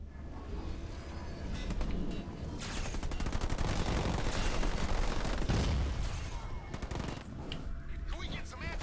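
Sustained rapid gunfire from enemy aircraft in a real-time strategy sci-fi game, dense overlapping bursts and rattling volleys for several seconds, with a voice speaking over the battle noise.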